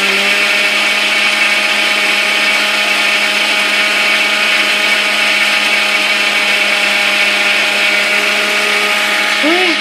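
An electric mixer grinder grinds coriander and cumin seeds at home, producing a loud, constant high-pitched motor whine that runs without a break throughout.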